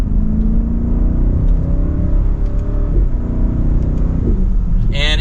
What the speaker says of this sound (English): it has a nice healthy tone to it. From that twin turbo V8